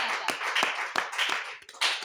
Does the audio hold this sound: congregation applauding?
yes